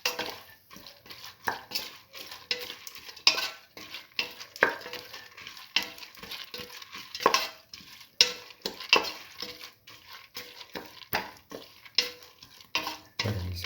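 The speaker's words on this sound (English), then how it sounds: "Thoroughly saute and mix." Red lentils and bottle gourd stirred and sautéed in a pan, with repeated close scraping and clinking of a spoon against the metal under a light sizzle, steady strokes throughout and no talk.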